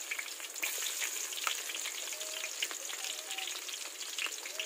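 Onion and garlic sautéing in a pan, a steady close sizzle and crackle with light stirring scrapes now and then, fairly soft and unbroken, with no talking.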